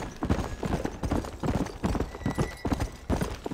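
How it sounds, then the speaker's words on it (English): Undead horse galloping in the Red Dead Redemption Undead Nightmare video game, with steady, loud clip-clop hoofbeats in a quick repeating rhythm throughout, plus a faint whinny-like tone. "The undead horse also has a crap ton of stamina too."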